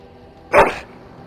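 Dog in the fantasy role-playing video game Dragon Age: Origins gives a single short, loud bark, close, against a quiet game background.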